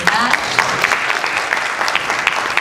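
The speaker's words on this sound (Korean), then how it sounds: "우리 스카이 앙상블에게도 뜨거운 박수 다시 한번 부탁드리겠습니다." Loud, steady applause for the Sky Ensemble at a beauty model pageant, dense clapping from an audience filling the whole stretch without a break.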